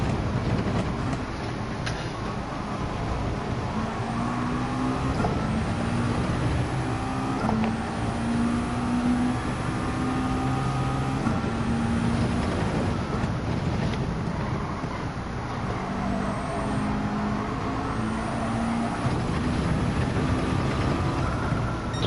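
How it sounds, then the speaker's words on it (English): A car in Gran Turismo 7 drones with a loud, steady engine and intake roar across the whole stretch, with rising and falling turbo whistles and gear changes, no talking. "This car does make some really interesting turbo noises. The intake is very loud."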